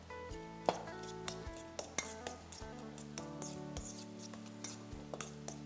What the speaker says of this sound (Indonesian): Baiknya kacau kan dia.